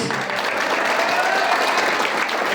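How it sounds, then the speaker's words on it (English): Steady applause from an audience honouring newly elected student captains and vice captains at a school election result event, a dense unbroken clapping wash at even loudness throughout. "So give them a big round of applause."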